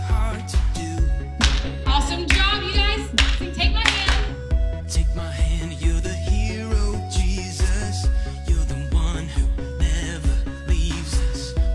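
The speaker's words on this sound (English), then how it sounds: "We're gonna clap up and over" Kids clap along in a steady rhythmic beat to an upbeat worship song, the claps landing regularly over loud music with a strong bass pulse and singing voices throughout.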